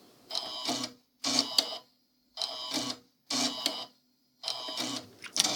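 A Silhouette Curio 2 cutting machine runs its embossing job in five separate whirring bursts, each about a second long, split by short silent pauses.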